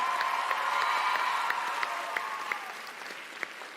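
An audience gives a round of applause and cheers for three final contestants at a session event, with dense steady clapping, a few scattered whoops and individual claps standing out.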